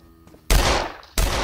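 Two loud bursts of gunfire from a first-person shooter video game, a long crackling volley followed by a second sharp burst, close and alone.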